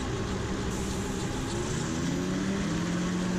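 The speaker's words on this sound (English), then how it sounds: "So up to 200 RPM, and then it's full power, stick back and be ready to counteract the crosswind." A gyrocopter engine runs at full takeoff power in a steady, dense drone, with a rising tone slowly climbing near the end. Wind and propeller noise fill the mix, and no one talks.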